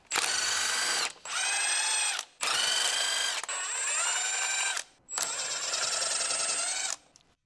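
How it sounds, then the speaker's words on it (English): Large electric impact wrench with a 23 mm short socket spinning lug nuts off a lifted 2011-2018 Dodge Ram 1500 rear wheel: four loud, close rattling bursts of about a second each, separated by brief pauses, with no talking. "Using the large 23 mm short socket and large electric impact wrench"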